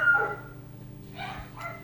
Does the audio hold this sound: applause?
no